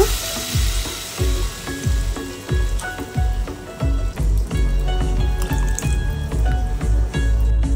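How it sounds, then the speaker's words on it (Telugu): Tamarind extract poured into a simmering prawn and tomato curry, bringing loud sizzling and bubbling with rhythmic splashing pops close by, no voices. "చింతపండు పులుసు వేస్తున్నారు మా అత్తమ్మ"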